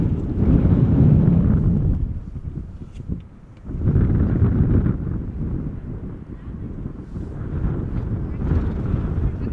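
Wind at Amsterdam Schiphol Airport buffeting the microphone in steady, loud rumbling gusts that rise and ease over several seconds, with no clear talk.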